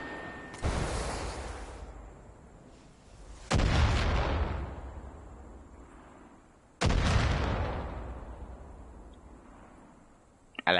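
A weapon firing in the Far Cry 5 shooter game: three loud, sharp shots spaced a few seconds apart, each with a long booming decay, plus a faint click at the very end.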